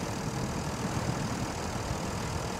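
Tractor and loaded truck engines in the SnowRunner video game drone steadily at a low pitch during a mud winch rescue, a continuous rumble with no other sounds.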